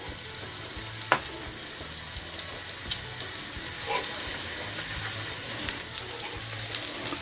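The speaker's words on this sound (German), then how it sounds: "wenn dann alles schön paniert ist, dann geht es ab in die Pfanne" Breaded pear slices sizzle steadily in hot lard in a pan, a soft continuous crackle with a few brief clicks and scrapes of a utensil.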